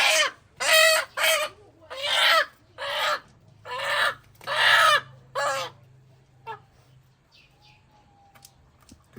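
A rooster gives a run of six or seven loud, close squawking clucks and crowing calls in quick succession, then quiets to faint scattered clucks over a low steady hum.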